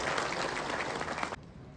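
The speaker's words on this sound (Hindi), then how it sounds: "हृदय की गहराइयों से तालियां बजती रहे हमारे विशिष्ट अतिथि गणों के स्वागत के लिए।" An audience at a foundation day celebration for tribal students claps steadily in welcome of distinguished guests, a dense wash of applause that cuts off abruptly near the end.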